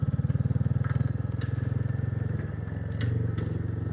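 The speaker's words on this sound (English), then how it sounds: "You probably think this bike handles not bad off-road" A Royal Enfield Classic 350 single-cylinder motorcycle rides off-road past heather and wind turbines, its engine a steady, close, pulsing thump with occasional clatters and knocks from the rough ground.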